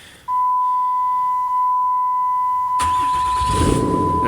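A Cummins diesel engine that stalls once warm cranks and fires back up after the key is cycled, entering midway after a long steady warning beep, then running close and loud.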